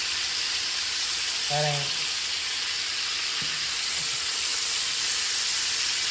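Jerk chicken pieces sizzle steadily in a pot while browning, a constant close frying hiss with small spatters, briefly overlaid by a short spoken phrase.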